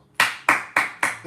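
Claps ring out in a short, evenly spaced run of five, sharp and close, like a single person applauding.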